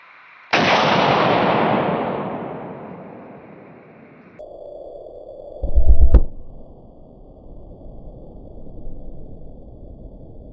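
A Desert Eagle .44 Magnum fires into ballistics gel: one sharp, heavy blast with a long decaying tail, then a second, duller thud a few seconds later.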